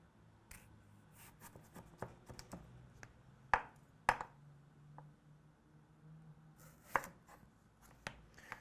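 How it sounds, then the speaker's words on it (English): Knife slicing peeled potatoes into half-inch planks for fries on a cutting board, a run of crisp, close chops and taps at an uneven pace, a few louder strokes standing out, with no talking. "we're gonna start cutting our fries about 1/2 inch thick"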